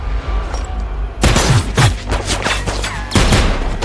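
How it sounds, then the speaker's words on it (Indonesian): Dense bursts of movie gunfire from a film scene in which henchmen shoot at a fleeing father and daughter, loud rapid volleys breaking out after a quieter opening and returning near the end, with no voices. "Namun mereka berhasil selamat dari tembakan yang dilepaskan oleh anak buah Anthony."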